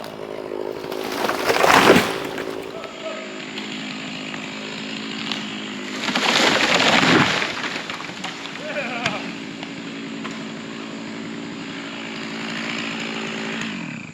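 A Stihl MS660 chainsaw cuts through a rotten tree with a steady, droning engine whine. Two louder rasping surges stand out, and the saw sounds close and dominant with no clear speech over it.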